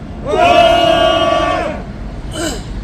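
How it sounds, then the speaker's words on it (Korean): A crowd at a rally of people filing a criminal complaint gives a loud, sustained cheer that rises and falls away over about a second and a half, and a brief second shout follows. "우리 모두 격한 함성 힘차게 부탁드립니다."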